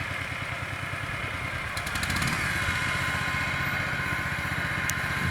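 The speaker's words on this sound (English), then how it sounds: "Now you'll notice, I don't know if you can hear the truck in the background" A fire truck engine runs in the background, a steady, continuous mechanical rumble with a low, even idle that holds throughout and grows slightly louder partway in.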